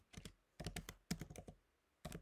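Typing on a MacBook M1 keyboard: four quick bursts of close, crisp keystrokes separated by brief pauses, with no talking.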